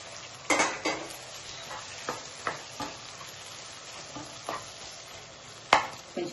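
Tomato pieces drop into hot oil in a pan, bringing a soft sizzle with scattered clinks and scrapes of a spoon against the pan, close and quiet, with no voices.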